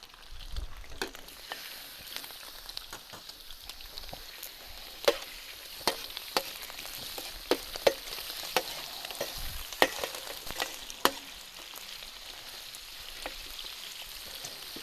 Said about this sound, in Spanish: Vamos a añadir ahora la panceta.